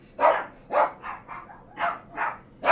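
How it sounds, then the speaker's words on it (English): A pet dog named Chewy barks six times in quick, uneven succession, sharp and fairly close, in an otherwise quiet indoor setting. "they came up here to bark, and you can hear the guy barking in the back"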